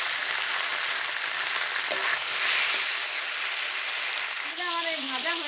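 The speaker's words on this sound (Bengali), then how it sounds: "মাছটা ফুটিয়ে যাচ্ছে, সব করে ফুটতে ভয় করছে।" Stingray pieces fry in hot oil in a village kitchen with a continuous bright sizzle and crackle, and a few short tonal chirps rise over the frying near the end.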